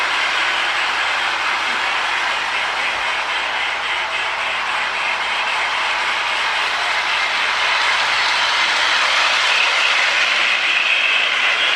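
A Lionel MPC Chessie Steam Special model train with a custom tender and a smoke unit runs continuously, giving a steady, even rushing hum with faint rhythmic clatter and no voices.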